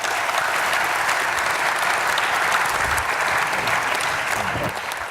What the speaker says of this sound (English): please give a big round of applause to our panel today